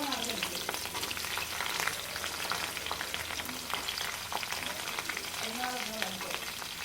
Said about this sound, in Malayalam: വെളുത്തുള്ളി ഒന്ന് ചെറുതായിട്ടൊന്ന് മൂത്ത് വരണം